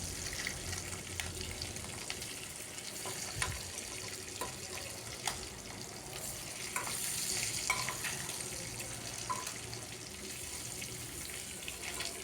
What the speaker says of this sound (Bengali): ডিমগুলোকেও লাল লাল করে ভেজে নিলাম।